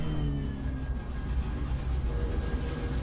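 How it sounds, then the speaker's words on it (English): A race car rumbles over the curbs in the racing game Assetto Corsa Competizione, a steady loud rattling drone under continuous engine noise with no talk. "When you go over the curbs, you've got that noise."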